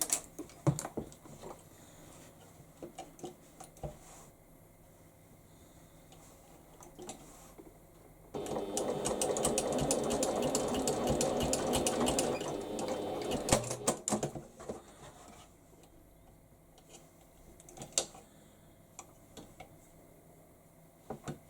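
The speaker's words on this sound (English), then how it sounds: "Then take it to your machine and stitch at 1/4 inch seam allowance." A sewing machine stitches a quarter-inch seam on a handbag in one steady, fairly loud run of about six seconds mid-clip, with quiet handling taps before and after.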